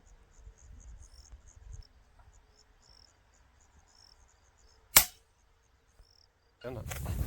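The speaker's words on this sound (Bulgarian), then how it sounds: "Изстрел от 242 метра." A single sharp report from an FX Impact M3 .22 air rifle fired at a 20 by 20 gong about 242 metres away, a crisp isolated crack over steady cricket chirping outdoors, followed by a burst of wind-like rumble.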